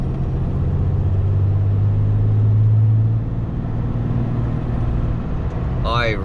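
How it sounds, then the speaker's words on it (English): A 2017 Ram 3500 Cummins diesel truck fitted with a Banks air intake runs with a steady engine drone and turbo whistle, the sound continuous and fairly loud, with a brief bird-like chirp near the end. "You didn't hear the turbo at all in this truck before."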